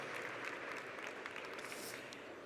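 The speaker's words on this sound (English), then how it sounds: "you can definitely give them a big warm round of applause" An audience in the room at an opening ceremony for a sustainability summit claps steadily, a soft, continuous wash of applause heard from a distance with no voices.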